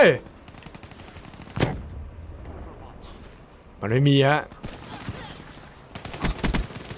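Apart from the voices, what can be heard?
gunfire in Call of Duty Black Ops III video game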